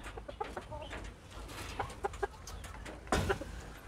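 Crossbred wild and local fowl chickens in a backyard coop in Vanuatu, clucking in short, scattered calls over a low murmur, with one louder burst near the end.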